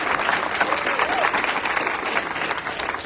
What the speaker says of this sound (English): let's give a big round of applause because Elijah has really worked so hard to bring this off